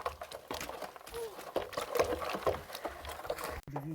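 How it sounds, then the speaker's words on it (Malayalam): Ash and rock salt are stirred into water with a steady sloshing, swirling liquid churn, close and moderately loud, with a person talking intermittently over it. "നന്നായി ഇളക്കി കൊടുക്കണം"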